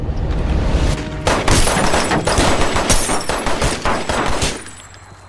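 Loud, dense burst of rapid gunfire in an action thriller film scene, dozens of overlapping shots and crashes rattling for several seconds before tapering off abruptly.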